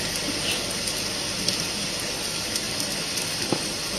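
Steady heavy rain pours as a stage sound effect during a one-act play performance, a dense continuous hiss with a few faint knocks, no talk.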